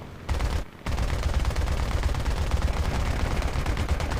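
Bomber machine guns in the War Thunder Mobile air-battle game fire in one loud, dense, continuous burst after a brief gap, a sustained rattling roar.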